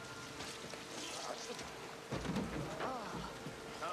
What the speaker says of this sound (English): it's not a good idea to be doing that in the rain when it's all wet